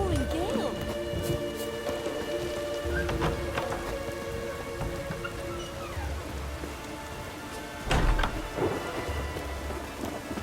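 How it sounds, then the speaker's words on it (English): Steady rain and rumbling thunder from a stormy scene in The Witcher 3 video game, with a louder thunder burst near the end, and faint voices now and then underneath. "It's raining."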